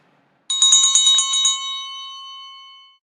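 A small bell is struck several times in quick succession, then leaves one bright ringing tone that fades away alone in silence.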